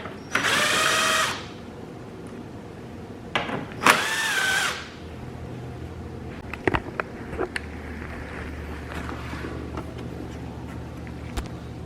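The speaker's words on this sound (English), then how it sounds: "So I'm gonna go ahead and take these two 10mm bolts out" Power tool backing out 10mm bolts from a 2007-2010 Hyundai Elantra headlight assembly: two short, loud close bursts of whirring, then quieter clicks and metallic handling as the bolts come free.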